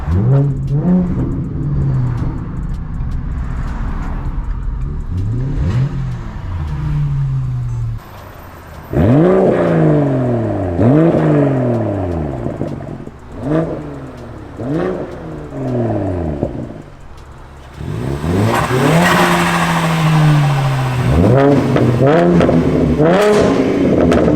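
A BMW M340i xDrive accelerates hard several times, its engine revving up and down in repeated loud sweeps with occasional pops and clatter, heard outdoors and close by.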